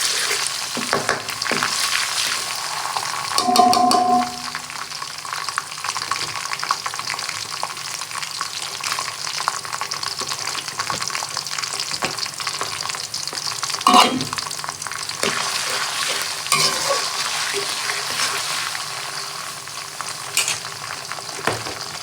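Ginger garlic paste sizzles in a pan of fried onions for a duck curry, giving a continuous frying hiss with occasional louder spatters and stirring scrapes and no talking.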